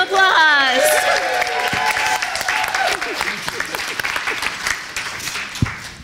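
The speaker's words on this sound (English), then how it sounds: "give Karl Bobo an amazing round of applause" A panel audience breaks into a loud round of applause, dense clapping mixed with cheers and a voice speaking over it at the start, then easing off gradually.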